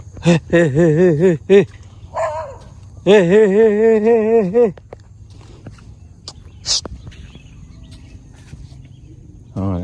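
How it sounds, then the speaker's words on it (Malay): A dog barks nearby in two quick bursts of sharp yelps, then a longer run of barking, followed by faint footsteps and quiet outdoor sounds on a residential alley street. "Anjing dekat jawab tu."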